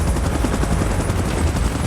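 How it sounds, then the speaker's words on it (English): A helicopter's rotor chops loudly and steadily in a Godzilla video game, a dense rhythmic thudding wash with no talking. "Chopper in position."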